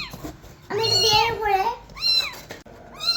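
A newborn kitten meows repeatedly in high, drawn-out cries, close and loud, with short pauses between calls.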